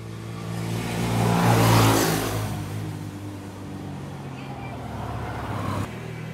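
A Honda Beat FI scooter engine is revved during a test, swelling to a loud peak, easing back and then holding a steady idle hum; someone speaks faintly nearby.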